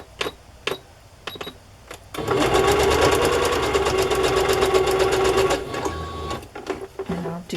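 A sewing machine runs a straight stitch along ribbon, its needle hammering in a fast, even rhythm for about three and a half seconds at close range, framed by a few clicks and handling noises before and after.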